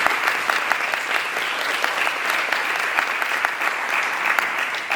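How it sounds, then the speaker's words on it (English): A room full of people applauds steadily at a morning education event, dense continuous clapping at an even level throughout, with no voices standing out above it. "So big round of applause for Julia."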